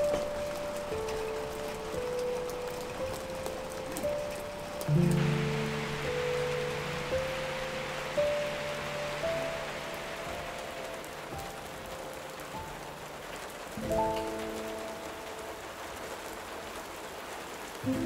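Steady rain pours across an outdoor construction site, a continuous hiss of drops on surfaces with faint tonal hums and a couple of dull thumps, and no talking.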